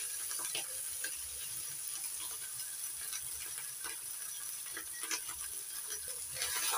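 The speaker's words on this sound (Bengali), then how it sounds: "আদা রসুন হালকা লাল করে ভেজে নেব।" Ginger, garlic and green chilli paste frying in a pan, a continuous soft sizzle and hiss with scattered small pops throughout, no talking.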